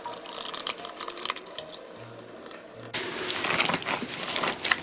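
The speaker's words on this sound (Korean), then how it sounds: "건지에 이렇게 넣어주시고 양념물을 부어주세요" Seasoning liquid poured from a container into a tub of young radish and napa cabbage kimchi, making a steady splashing, running-water sound that grows fuller and louder partway through; no voices.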